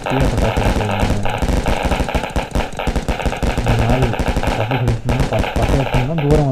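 Deepavali firecrackers bursting in a loud, dense string of rapid cracks and bangs, with a few brief pauses, close by and nearly continuous over a low rumble of background noise.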